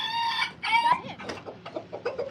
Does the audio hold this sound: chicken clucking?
yes